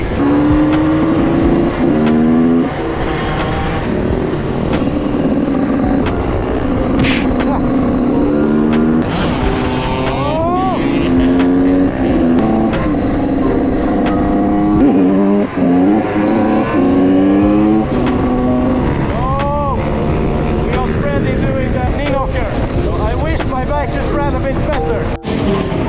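A motorcycle engine drones and revs nonstop on a ride through Frihamnen, its pitch climbing and dropping over and over as the rider shifts gears and changes speed.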